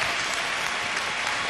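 A gospel competition audience breaks into applause after a performance, a loud, dense burst of clapping heard up close and sustained throughout.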